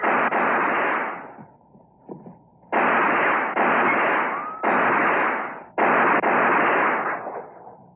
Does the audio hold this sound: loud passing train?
no